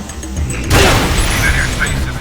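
A grenade goes off in the shooter Frontlines: Fuel of War, a loud, close boom that breaks in sharply after a brief pause and rumbles away while a player speaks nearby.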